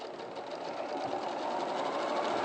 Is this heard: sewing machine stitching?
yes